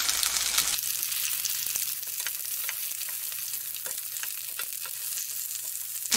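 Australian chuck eye roll steak searing in a hot frying pan, a steady, close sizzle that carries on throughout with a few faint clicks and no voices.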